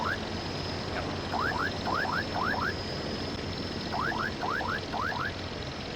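In the video game Voices of the Void, a drone gives off quick rising electronic chirps in rapid pairs and clusters, repeated in two bursts over a low, steady background hum.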